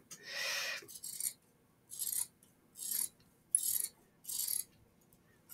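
Fabric is cut with scissors beside a seam while sewing cloth wipes, giving six crisp, close snipping strokes at a fairly even rhythm, separated by near silence.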